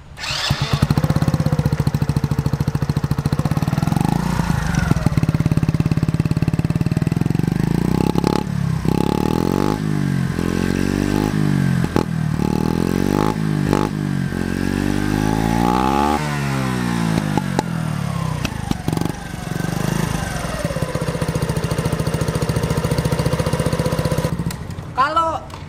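A Honda Little Cub motorcycle fitted with an aftermarket exhaust runs continuously, its small engine buzzing loudly and nearby with repeated revving swells and pitch sweeps throughout.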